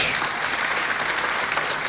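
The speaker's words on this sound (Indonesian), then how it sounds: "Tepuk tangan buat Indonesia gue." Audience applause at a large public gathering, dense sustained clapping from many hands filling the space evenly for a couple of seconds, loud and close with no speech over it.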